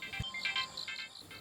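A phone rings unanswered in the evening, a faint electronic ringtone pattern of repeated short tones, quiet and somewhat distant, with no talking.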